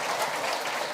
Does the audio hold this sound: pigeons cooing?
no